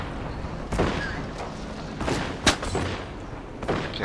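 Scattered gunshots in the shooter game Fortnite, a few sharp reports spaced irregularly over low rumbling battle noise, some close and some more distant.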